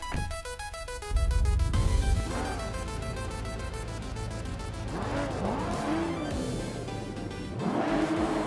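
A 1991 Honda CRX race car in vintage racing at Laguna Seca, its engine revving hard through the gears with rising and falling pitch sweeps, tires squealing through corners, loud and close.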